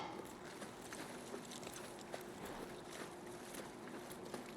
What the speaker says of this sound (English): we are riding horses right now